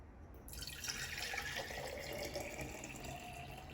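Salt water pours steadily into a jar for plum pickle, a continuous splashing trickle running for several seconds with no voices.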